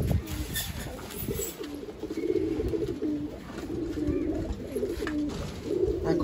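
Khaki pigeons in a breeding loft give repeated low cooing, steady and close, with faint movement and background noise throughout.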